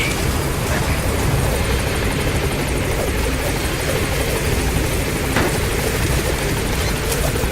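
A helicopter in the video game Metal Gear Solid V roars continuously, its dense rotor wash and engine noise loud and close throughout with no voices over it.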